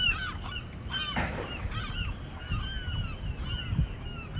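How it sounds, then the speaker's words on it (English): Seagulls calling at a pier, with repeated squawking cries rising and falling over a steady outdoor rumble of wind and water, fairly close, no talking. "The seagulls are really not happy that we're out here."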